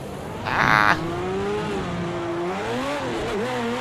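A BMW E30 with a ProComp drift mod in Project CARS 2 gives a brief loud rev burst, then the engine holds a steady, wavering drone as the car slides, with no talk over it.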